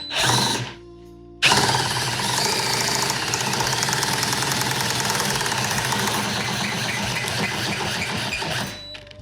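A Fleximounts GL1 garage lift runs with a Ford Bronco on it, giving a loud, continuous mechanical grinding and knocking drone that starts abruptly after a brief pause and holds steady for several seconds before cutting off.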